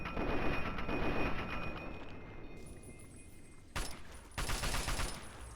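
Gunfire in Fallout 3 around Canterbury Commons, a faint rattling burst at first that fades, then two abrupt louder bursts near the end, all fairly quiet overall.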